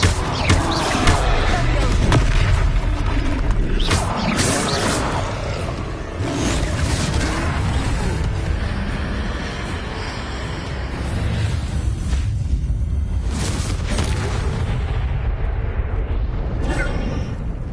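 Spell blasts striking a troll in the Hogwarts Legacy video game, a dense, loud barrage of booming impacts and roaring rumble that runs nearly continuously, with bursts near the middle and a fading tail toward the end.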